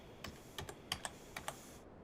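Brisk, uneven keystrokes on a computer keyboard, about eight close clicks in two seconds with no voices.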